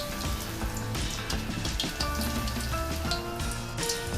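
Chicken 65 pieces deep fry in hot oil with a steady, moderately quiet bubbling sizzle that holds evenly throughout, with no talking.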